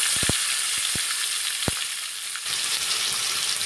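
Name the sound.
fish frying in oil with black cumin tempering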